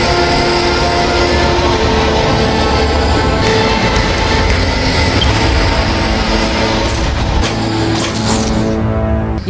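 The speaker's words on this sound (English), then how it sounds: "It's the call of the Fisher King" The call of the Fisher King from a sci-fi TV show: a loud, continuous grinding, metallic roar with harsh rumbling and shrill overtones, sustained without a break and unaccompanied by talk.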